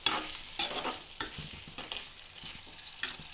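Chilli powder being stirred into ridge gourd curry frying in a pan: close, steady sizzling with repeated scraping strokes of a spoon at a regular rhythm, no voices.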